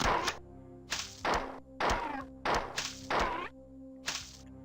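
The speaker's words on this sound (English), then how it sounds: "Who needs hit markers when you got good sound effects? Reloading." A weapon being reloaded in the Marathon Aleph One video game, made up of six or seven sharp mechanical clacks and thunks in a fairly steady rhythm, crisp and close with no voices.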